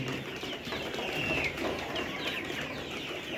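Nourish layer pullets cluck continuously in a poultry shed, a dense, steady flock murmur with scattered brief calls rising over it and no voices.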